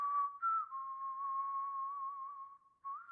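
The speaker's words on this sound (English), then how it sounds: "They speak in whistles and English." Saurian creatures in Borderlands 3 give a sustained, wavering whistle that holds one pitch with small upward bends, then breaks and returns near the end, clear and alone.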